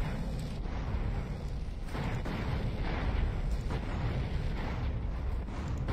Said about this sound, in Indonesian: Ui, member tembak bazooka weh.